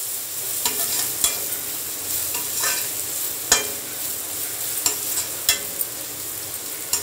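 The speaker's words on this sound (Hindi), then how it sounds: "उसके बाद इसको भी अच्छे से मिक्स कर देंगे।" Vegetables for poha being stirred in a hot pan, a steady soft sizzle broken by repeated spatula scrapes and taps at irregular intervals, close and moderately quiet.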